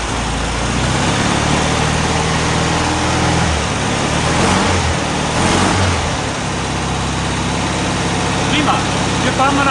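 The air-cooled engine of a VW Beetle convertible, running on old fuel, idles steadily close by for the whole stretch, with a slight rise in revs, while someone talks over it.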